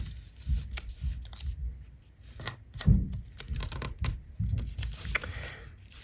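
Paper for an origami rose is creased and folded close by, giving irregular crisp crinkles, rustles and sharp taps with brief quiet gaps between them.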